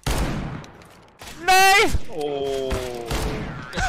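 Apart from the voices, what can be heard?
gunshots in a video game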